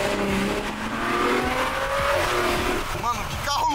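A Lexus IS sports car's engine revs and pulls hard in a steady, loud drone beside a lakeside road, with brief tire-squeal-like tones near the end; people talk over it.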